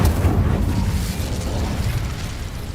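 Incendio fire spell cast in Hogwarts Legacy, a dense, roaring burst of flame with a heavy low-end rumble that holds steady and slowly settles over a few seconds.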